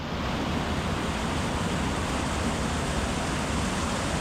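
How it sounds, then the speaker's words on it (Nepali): A loud, steady roar of a large, powerful waterfall, Rupse Falls in Mustang, Nepal, rushing water filling the air, constant and close, with no pauses. "एउटा विशाल र शक्तिशाली झरना हामीले देख्यौँ"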